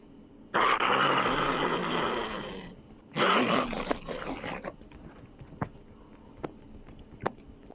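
A person imitating a growl, giving two long, loud, raspy roaring bursts up close, the second shorter and trailing off into a few faint clicks.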